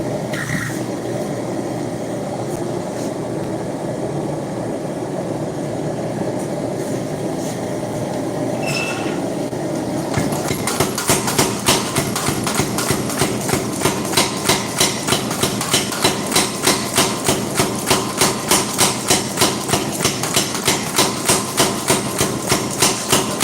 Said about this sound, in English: I'm going to run that under the power hammer